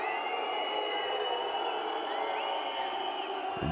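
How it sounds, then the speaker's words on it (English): A basketball crowd at a Basketball Champions League game between JDA Dijon and Lietkabelis keeps up a constant roar, with shrill whistles rising above the arena noise. "And you hear the whistles from the crowd."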